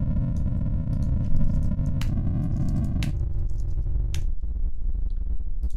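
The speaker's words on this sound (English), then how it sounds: "it's going to create a random noise, a kind of like a white noise" Continuous synthesized noise with a buzzy, pitched character, shifting in tone a few times with sharp clicks at each change, steady and loud throughout.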